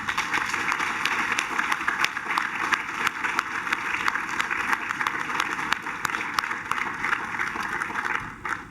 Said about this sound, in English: Would you please help me give our graduates a big round of applause?